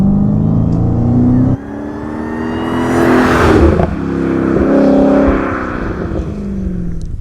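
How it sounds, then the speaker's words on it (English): A 2017 Dodge Challenger Hellcat with a 707-horsepower engine revs and accelerates hard on a private closed course, a loud, continuous engine roar that climbs, briefly drops and then swells again, close by and with no talking. "We are on a private closed course with the 2017 Dodge Challenger Hellcat."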